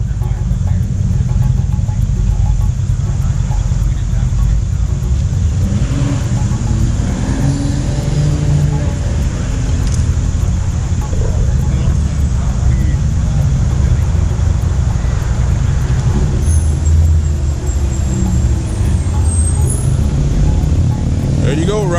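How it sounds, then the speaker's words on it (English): A Vanderhall three-wheeler drives along the Dragon road near Deals Gap, its engine a steady low drone under constant road and wind noise, with people talking over it throughout. "riding in Vanderhall out here on the Dragon"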